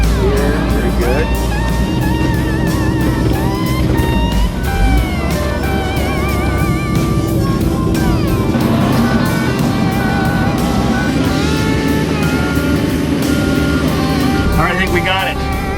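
A truck in Alaska labors and strains to pull itself free, its engine grinding steadily and fairly close under almost continuous talk.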